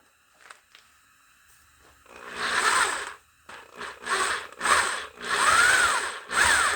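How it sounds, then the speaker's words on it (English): A corded electric drill bores a half-inch hole, whirring up in several loud bursts of grinding cutting with short pauses between, close by after a few quiet clicks. "I switched to the electric drill so we don't have to worry about eating up a battery"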